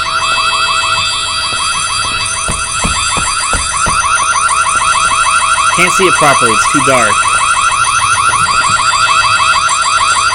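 An alarm bell rings continuously and loudly inside a dark school in the horror video game White Day, a steady electronic tone under a voice, with brief footstep-like thumps and rising warbles midway.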